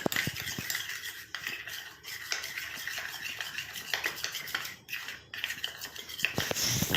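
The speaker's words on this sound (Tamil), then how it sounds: "இப்போ கட்டிகள் இல்லாமல் நல்லா மிக்ஸ் பண்ணி விட்டுக்கோங்க." A spoon stirs a mustard oil hair mixture in a small bowl, close scraping and clinking of metal against the dish in quick irregular strokes, with no talk.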